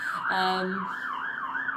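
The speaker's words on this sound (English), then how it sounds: "those alarms are happening" Emergency sirens or alarms sound outside, a wailing tone that rises and falls in a steady rhythm, distant and muffled through the walls, with a brief horn-like blast near the start.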